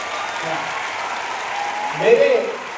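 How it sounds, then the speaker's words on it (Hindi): An audience of children and soldiers at an army cantonment road-safety talk claps for a blind girl, a fairly faint, steady patter of applause with a voice rising briefly near the end. "एक बार जोरदार तालियां बच्ची के लिए बजाएं"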